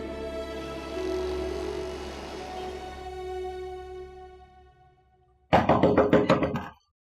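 Knocking on a door in a drama scene: a quick burst of about six loud, close raps, heard alone after a sustained musical tone fades out.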